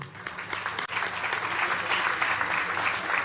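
An audience at a ceremony honouring a president breaks into applause, a dense, sustained roar of many hands clapping that swells after a brief pause and holds steady at full level.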